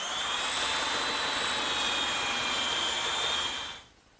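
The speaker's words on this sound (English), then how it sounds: "And to do that, I'm just going to use my little belt sander." A small belt sander grinds down protruding wooden dowel pins on a kitchen work table, a steady loud whirring hiss that holds for about three and a half seconds, then cuts off as the motor stops.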